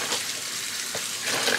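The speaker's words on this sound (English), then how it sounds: "So fill this up with some more water." Tap water runs into a container to soak fabric before dyeing it for a tie-dye tee, a steady broad rushing gush that carries on without pause for the short stretch.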